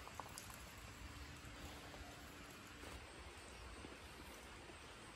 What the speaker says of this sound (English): It's raining pretty good out there.